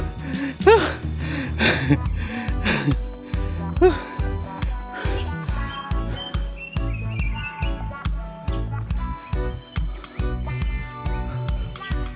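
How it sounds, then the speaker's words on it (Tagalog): A hiker on a mountain trail pants heavily in a steady rhythm of close, breathy gasps, with birdsong and insect chirps in the background. "Kaso yung hingal ko, hindi ko mapigilan."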